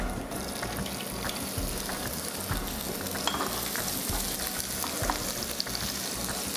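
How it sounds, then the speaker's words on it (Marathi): Cumin seeds and onion fry in hot oil in a home kitchen, giving a steady, dense sizzle and crackle that runs unbroken and fairly close, with faint scraping of stirring and no talk. "तेल गरम झाले, आता काय? जिरं,"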